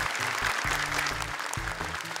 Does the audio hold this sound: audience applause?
yes